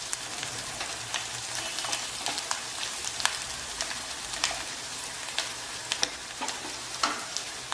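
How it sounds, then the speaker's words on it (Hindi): Onions fry in a pan for chicken pasanda, giving a continuous close sizzle dotted with frequent sharp pops and crackles, with no voices over it. "हमारे प्याज जो हैं बहुत बढ़िया सुर्ख हो चुके हैं और बढ़िया पक गए हैं।"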